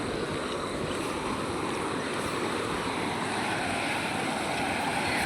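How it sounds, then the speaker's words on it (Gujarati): Floodwater from an overflowing lake near Dahod, Gujarat, pours across a road above a culvert, producing a steady, dense roar of rushing water with no pauses, heard from close by. "રોડની ઉપરથી પાણી પસાર થવા લાગ્યું એટલું બધું પાણી આવી ગયું"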